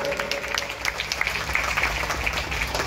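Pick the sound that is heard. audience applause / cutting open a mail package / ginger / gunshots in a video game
audience applause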